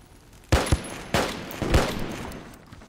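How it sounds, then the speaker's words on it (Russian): Three sharp, loud gunshots crack out about half a second apart in the Army Troop shooter, each with a short echoing tail, with no talking. "Не слышно, откуда в тебе стреляют"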